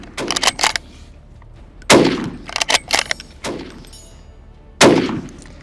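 Carcano rifle shots fired outdoors, roughly 80 yards from the target: several sharp, loud cracks come in uneven bursts, with distant echoing reports in between.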